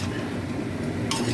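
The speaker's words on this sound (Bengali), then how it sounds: "এই দিয়ে এবার নাড়াচাড়া করে কিছুক্ষণ রেখে আমি তুলে নেব" Fried khaja sweets being stirred in hot sugar syrup, a steady soft scraping and sloshing close by, with a brief bright clink near the end.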